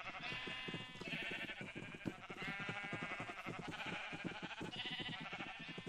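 Sheep in Minecraft bleat over and over in a steady run of wavering calls, fairly loud and close, with no talking over them.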